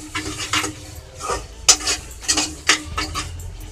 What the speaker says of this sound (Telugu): అల్లం వెల్లుల్లి పేస్ట్ ఒక టీ స్పూన్ వేసుకుంటున్నాను